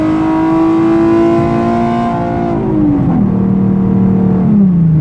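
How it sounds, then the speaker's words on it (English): A modified 2009 Nissan 370Z with a 3.7L V6 roars loudly through its aftermarket exhaust, the engine note climbing steadily under hard acceleration, briefly dipping at a gear change, then rising again. "the car is so loud that I feel like when I get on the throttle, I'm attracting so much attention"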